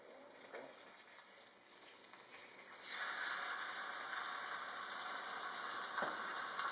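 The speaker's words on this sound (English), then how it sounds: "The first thing we're going to do is sear the lamb in a hot skillet in oil." Lamb pieces searing in oil in a hot skillet on a stove for a slow cooker stew, a soft sizzle that swells into a louder, steady hiss with a faint knock near the end.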